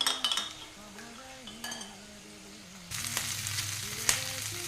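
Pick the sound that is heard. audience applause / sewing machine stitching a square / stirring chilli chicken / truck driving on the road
stirring chilli chicken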